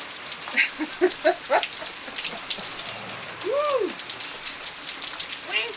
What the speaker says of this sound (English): it looks like we're getting the first big rain of the season. My gosh, it's really coming down.